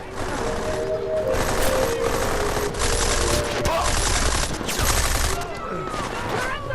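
Rapid automatic gunfire from the video game Deus Ex Mankind Divided, dense, loud bursts of shots over game sounds, with voices calling out now and then.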